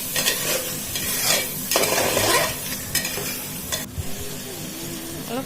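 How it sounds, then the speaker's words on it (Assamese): Mutton pieces fry with spices in an Assamese-style curry with taro, sizzling steadily while a spoon stirs and scrapes the pot in repeated close strokes. "আৰু দি ভালদৰে মিলাই ল'ম, গোটেইখিনি মিলাই ভাজি থাকিম অলপ সময়।"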